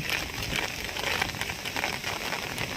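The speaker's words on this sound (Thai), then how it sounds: "เสียงฝนอาอามาแล้ว" Steady rain pours down in strong wind during rice seedling pulling in a paddy field, a dense continuous hiss with light patter close by and no voices.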